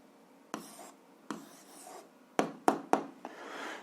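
A pen writes an algebra answer on paper, close and fairly quiet. It makes a few short scratchy strokes separated by pauses, then a quick cluster of taps and strokes.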